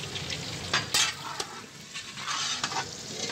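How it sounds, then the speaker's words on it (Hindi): Salted chicken browning in a pot of oil for Kabuli Pulao, a close steady sizzle with scraping stirs and a few sharp clinks of a spoon against the metal. "चिकन को अच्छे से ब्राउन करना है ताकि अच्छी खासी पक जाए ये"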